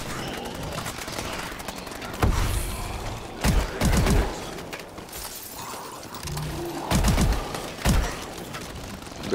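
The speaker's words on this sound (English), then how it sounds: "Grenade." A grenade blast in the video game EXO Zombies: several loud, booming bursts with crackling, shattering debris. They strike at intervals over a busy background of game noise.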